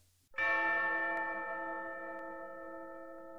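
An anvil struck like a bell on a song gives one sharp clang that rings on with a bright, slowly fading metallic tone.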